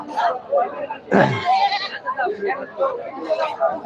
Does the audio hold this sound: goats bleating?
yes